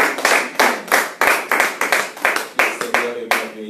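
A church congregation claps in a steady, rhythmic beat, about three sharp claps per second, loud and close, with voices faintly mixed in.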